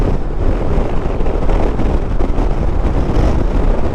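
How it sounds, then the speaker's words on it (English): Steady, loud wind buffeting roars across the microphone while riding a 2024 Harley-Davidson Road Glide in the Okanagan, with no voices over the constant rushing. "I hope it's not too windy for you guys."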